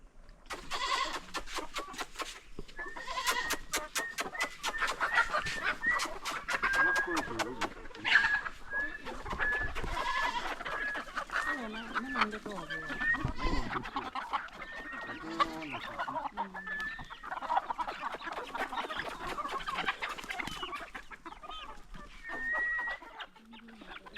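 Hens cluck and squawk continuously, a busy flock close by in Ghana with overlapping calls and a few louder bursts throughout.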